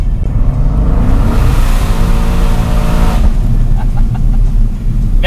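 A powerful Mercedes C63 S AMG engine revs hard and loud, climbing in pitch through a sustained roar, then briefly drops off before a few sharp blips.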